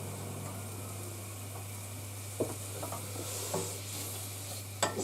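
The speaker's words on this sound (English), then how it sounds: "sweating the leeks down. Just need to add a tiny bit more olive oil to that." Leeks with garlic sizzle quietly in olive oil in a pan, a soft steady frying hiss broken by a few scraping stirs of a utensil, close and alone without talk.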